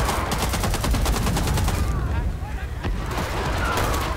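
Rapid video game gunfire rattles in dense, continuous bursts like a fusillade, loud and close, thinning briefly before more shots resume.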